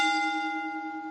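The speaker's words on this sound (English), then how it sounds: "I'll ring the bell on this one" A single bell rings out clearly with a sustained metallic tone that slowly fades, alone and without talk.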